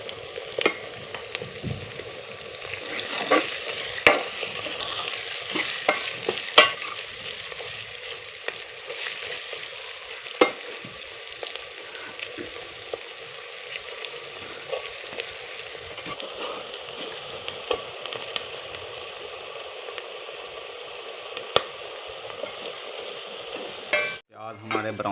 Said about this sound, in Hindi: लहसुन और अदरक का पेस्ट हमारा हल्का ब्राउन हो चुका है। अब हम इसमें प्याज डाल देंगे।